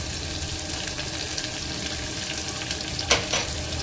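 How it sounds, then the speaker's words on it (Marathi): Onion, garlic cloves, cumin and curry leaves frying in a pan, a dense continuous sizzle with light stirring scrapes near the end, close and steady without speech. "त्याला छान परतवून घ्यायचं आहे."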